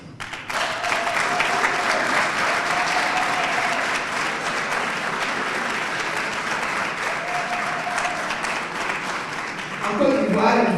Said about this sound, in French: Je voudrais vous inviter à acclamer cette voix.